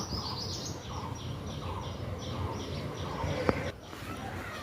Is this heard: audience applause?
no